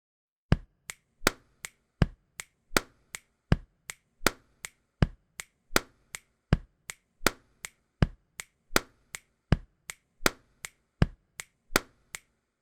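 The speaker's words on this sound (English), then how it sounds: "here's that simultaneous finger snap and chest bump" Crisp, evenly spaced body percussion hits, simultaneous finger snaps and chest bumps, repeat in a steady funky groove about twice per second, close and clean with no talking.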